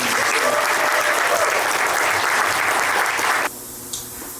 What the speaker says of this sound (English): So can we give April a round of applause real quick?